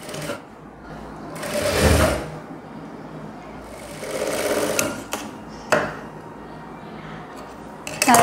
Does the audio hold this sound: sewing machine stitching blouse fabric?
yes